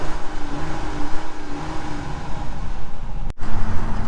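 A Dodge Durango GT AWD SUV engine running and revving close by, a loud, steady rumbling hum that swells and dips in waves, with a brief cutout near the end.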